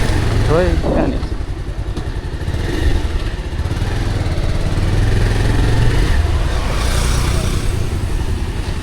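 A motorcycle engine droning steadily while riding, close and loud with a rough low rumble and shifting revs, under intermittent voices talking.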